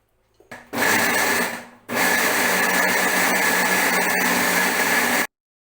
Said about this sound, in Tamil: இதை ஒரு மிக்ஸி ஜாரில் போட்டு ஒரு ஓட்டிக்கலாம்